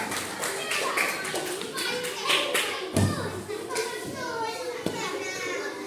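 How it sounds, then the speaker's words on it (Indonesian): Third-grade children clap together in a classroom, a loud burst of overlapping claps that fades into scattered taps and thumps, with kids chattering and a teacher speaking nearby. "Tepuk tangan buat Alvan."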